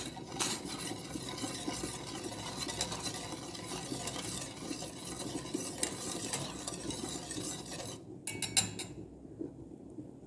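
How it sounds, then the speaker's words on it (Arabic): A spoon stirring milk and sugar in a pot on the stove scrapes steadily and continuously, close and fairly loud, with a brief pause and a couple of clinks near the end. "نحركو"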